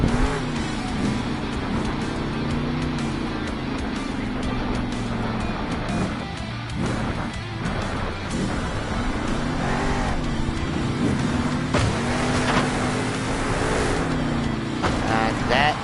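A monster truck revs hard through freestyle stunts in a stadium, wheelie and stoppie included, its engine roaring in rising and falling surges under continuous arena commentary.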